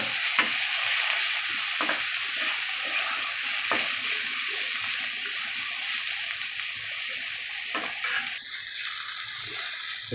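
Cluster beans stir-fried in a pan are stirred steadily, a continuous close sizzle with scraping clicks of the spoon against the pan, no voices over it.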